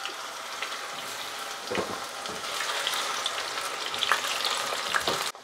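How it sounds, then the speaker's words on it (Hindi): Potato pieces frying in hot oil: a steady, close crackling sizzle with scattered pops that swells slightly midway, with no voices. "3 से 4 मिनट के लिए आलू को फ्राई करेंगे, आलू के कलर चेंज हो जाने तक।"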